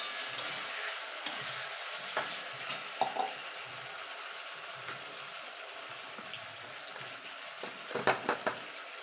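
Pumpkin greens fry in a pan with a ground mustard, cumin and green chilli paste, making a soft continuous sizzle broken by scattered stirring scrapes and clinks, fairly quiet and close, with no talking.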